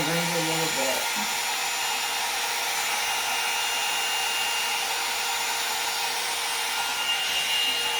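A Conair 2-in-1 hot air dryer and styler runs with a steady, continuous airflow hiss throughout, loud and close, as it styles the ends of hair, with a few brief tones at the very start.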